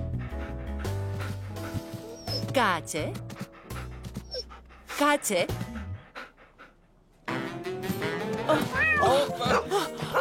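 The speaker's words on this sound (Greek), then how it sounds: "Υποθέτω ότι μάλλον στο Κούπερ αρέσει να κυνηγάει γάτες." In a children's cartoon, a dog pants and barks while chasing a cat that meows and yowls, animal sounds overlapping in bursts with a short quiet gap partway through.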